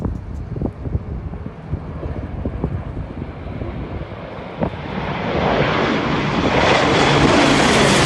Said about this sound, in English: This plane flying low in a really sharp turn.